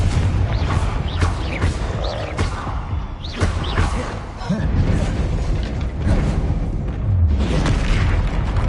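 Magic spell blasts in Hogwarts Legacy combat, the Confringo fireball explosion among them: loud, dense bursts and booms going off repeatedly at close range, layered with battle noise and shouted incantations.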